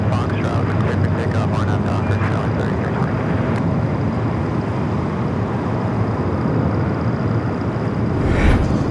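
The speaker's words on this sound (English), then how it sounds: "Eva Air, flight 16 in the Star Alliance livery, coming in from Taipei in the 16-year-old 777-300ER" An EVA Air Boeing 777-300ER in Star Alliance livery arriving from Taipei to land at LAX, a steady loud broadband jet roar that holds throughout with little change, close and dominant.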